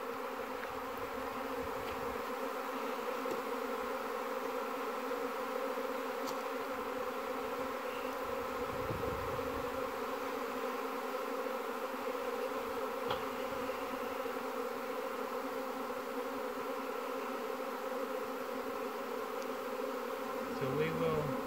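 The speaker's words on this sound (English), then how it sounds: "Bunch of bees." A dense, steady buzzing of a honeybee swarm fills the whole stretch, continuous and close, with no talking.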